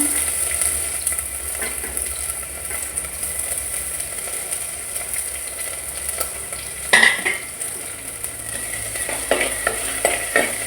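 Ginger and garlic sizzle in hot oil with a steady frying hiss, broken by occasional louder spits and crackles as they are stirred.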